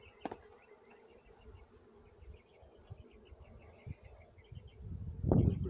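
A soft, continuous buzz of bees hums through the clip, with a few clicks and a louder rustling thump near the end.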